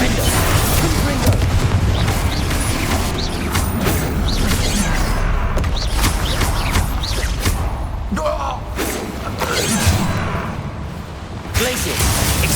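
Rapid spell combat in Hogwarts Legacy: a dense, continuous barrage of magical blasts, booms, crashes and impact thuds, loud and close throughout, with a character's voice shouting spell names over the fighting.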